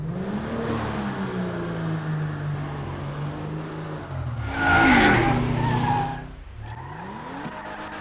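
A Benefactor Vorschlaghammer sports car in GTA Online drives with a steady engine drone, then revs harder with a burst of tire squeal and skidding before the engine note drops and climbs again; no one talks.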